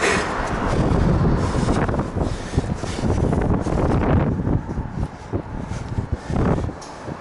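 Steady wind buffeting the microphone high on a swaying light tower, a loud continuous rumbling roar with gusty surges throughout.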